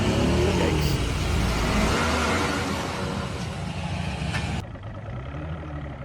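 A vehicle engine revs hard and steadily as the driver presses the gas, loud and close, then cuts off sharply near the end, leaving a lower rumble.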